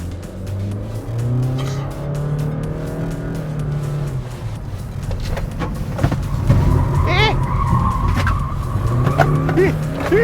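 A Honda BR-V Prestige CVT is driven hard through a handling test, engine droning steadily while tires squeal and skid in short rising bursts near the end. People talk over the car throughout.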